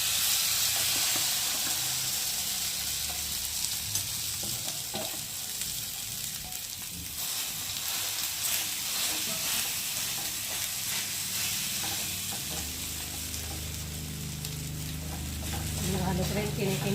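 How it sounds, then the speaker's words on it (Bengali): Maggi noodles drop into hot oil on a tawa and set off a loud, continuous frying sizzle with hissing steam. Scraping and stirring sounds run through it, and the frying stays strong and close the whole time. "তাওয়াতে তেল দিয়েছি আর তেলটা গরম হয়ে গেছে। আর এখন আমি ম্যাগিটাকে দিয়ে দেবো।"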